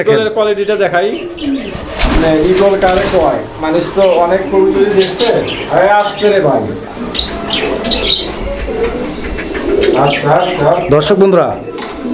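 Eagle-breed pigeons coo repeatedly and loudly at a busy pigeon market, their throaty calls overlapping with nearby voices talking throughout.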